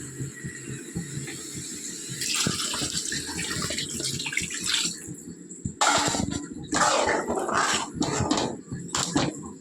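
Water pours and splashes into a pressure cooker in a kitchen, a gushing stream in uneven bursts, with a dog audible faintly in the background.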